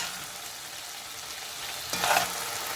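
Beef cubes browning in a pan for a simple stew give a steady, close sizzle, with a louder, brighter crackling burst near the end as the meat shifts in the hot fat.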